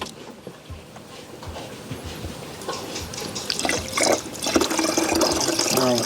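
Liquid poured into a container during pig deworming on a farm, a trickling, splashing stream that grows louder and fuller as the pour continues, with faint background sounds.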